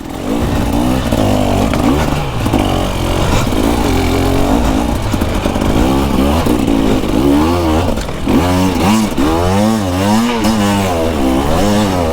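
A KTM motorcycle engine runs loudly and steadily close by, revving up and down in repeated surges with a rough, buzzing tone.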